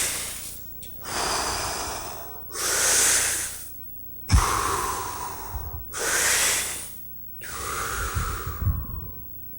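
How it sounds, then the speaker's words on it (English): An audience takes three big, deep breaths together, each a loud rushing inhale followed by a long exhale, spaced evenly with short pauses between. "Now take 3 big breaths."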